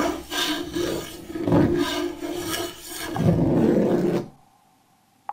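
A heavy scraping drag like a large sword pulled across the ground, as in a dark horror video game, rasping in long continuous waves for about four seconds before cutting off into near silence.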